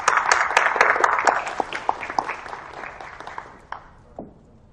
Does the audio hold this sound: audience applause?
yes